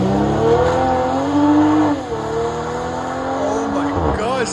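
Straight-piped exhaust on a BMW X5 M40i with its 3.0L engine, warmed up, revving hard and close with rising and falling engine tones over about four seconds, a voice talking over it.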